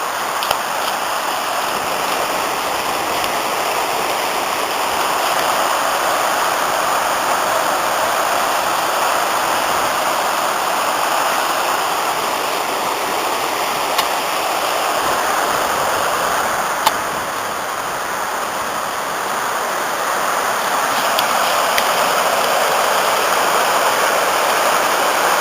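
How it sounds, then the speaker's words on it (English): The swollen Artro river flowing through its estuary on the Wales coast, a loud, continuous rushing of water that holds steady and close throughout, with no voices. "The river's been up now for quite some time."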